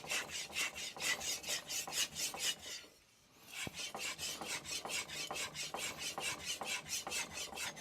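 A knife blade is sharpened on a DMD resin bonded diamond plate in a run of rapid, rhythmic rasping strokes, close and fairly quiet, with a short pause near the middle before the steady back-and-forth scraping continues.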